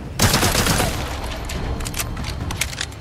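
Rapid bursts of shotgun, sniper rifle and submachine gun fire ring out in Resident Evil 4 Remake VR, loud overlapping shots with booming low-end thuds in a continuous fusillade.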